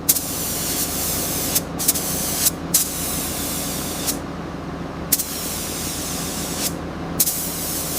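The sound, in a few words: spray-painting gray primer onto a Thomas train model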